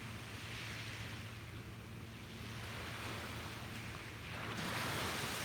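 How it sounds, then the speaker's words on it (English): Surf washing steadily onto a beach where pelicans skim the water, a continuous broad wash of breaking waves with light wind buffeting the mic, swelling louder near the end. "Listen to those waves."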